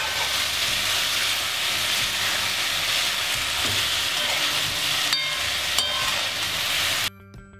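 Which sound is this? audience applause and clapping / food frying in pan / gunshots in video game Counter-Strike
food frying in pan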